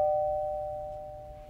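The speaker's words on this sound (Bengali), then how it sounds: "3 মিনিট পরে কলিং বেল বেজে উঠল।" A single electronic doorbell tone rings clearly and then slowly fades away, with nothing else sounding.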